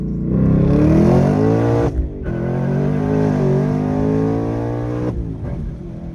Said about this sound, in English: So I'm just gonna row through gears for you guys, and we'll see.